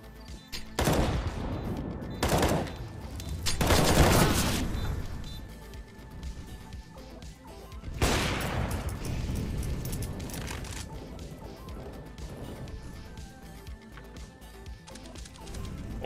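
Gunfire in a shooter video game comes in several sharp, loud bursts spaced over a few seconds, with quieter rattling shots and clatter between them.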